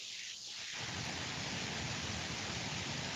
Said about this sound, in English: it's raining cats and dogs outside right now